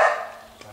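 A single short dog bark at a small petting zoo, loud at the onset and trailing off, with a faint second yip near the end.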